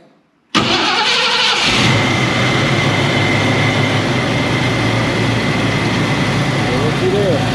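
A Ford Mustang engine cranks and catches after a brief silence, then settles into a loud, steady idle heard up close, with a faint whine near the end.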